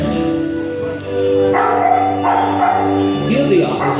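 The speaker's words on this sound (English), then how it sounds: "this is my dog, Schnitzel." A dog barks a few times at a park in Hamburg, Germany, its yaps and yips mixed in with people talking and a busy outdoor background.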